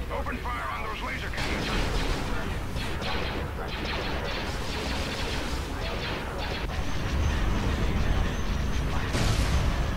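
Laser cannon fire during a space battle in Star Wars Empire at War with the Clone Wars mod, a dense barrage of repeated blasts and booms over continuous rumble, with a player talking over it.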